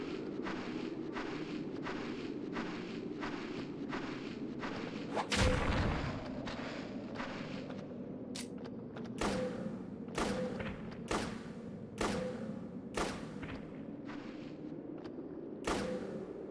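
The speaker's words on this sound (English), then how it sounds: "I can just shoot them in the head and they just die in one shot" Gunfire in the video game Shadow Tower: Abyss, a string of sharp shots spaced about a second apart over a low ambient game drone, with one heavier booming blast partway through.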